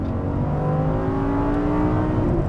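An Audi R8 engine revs hard after a downshift, its steady, rising drone filling the cabin for a couple of seconds with no one talking.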